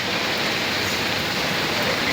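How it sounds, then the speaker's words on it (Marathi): Steady rain falls at a vada pav stall in a loud, constant hiss with no breaks, close by and without voices. "पाऊस सुरू झाला म्हणून?"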